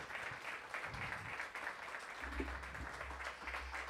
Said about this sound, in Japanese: オンサックス中園アミ、大きな拍手をお願いします。